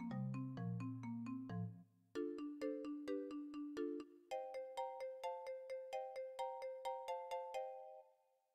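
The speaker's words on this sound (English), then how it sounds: "Oh god, it's a fucking ringtone." A bright electronic ringtone melody loops with quick repeated tones, a short pause, then a higher looping phrase, loud and clear with no talking.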